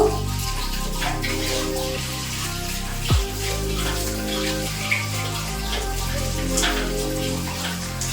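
A tap runs steadily, water pouring into a basin in a continuous close hiss with a faint splash partway through and no talking.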